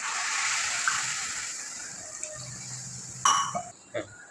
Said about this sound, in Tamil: இப்போ 1க்கு 2ங்கிற அளவு தண்ணி ஊற்றணும்